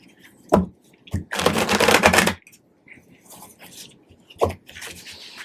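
A deck of tarot cards is riffled and shuffled in a burst of rapid flutters, with one long central riffle and a few short snaps and taps around it, close and fairly loud.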